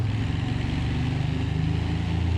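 A 1940s car engine, with its exhaust exiting out the side, idles in a steady, loud, low throbbing rumble that stays even and close throughout, with no talking.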